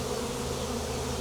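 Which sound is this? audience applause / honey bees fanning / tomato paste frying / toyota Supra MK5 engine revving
honey bees fanning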